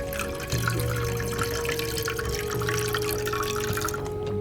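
A water fountain in the game Stationeers runs with a continuous splashing, dripping stream, loud and close over a low steady hum.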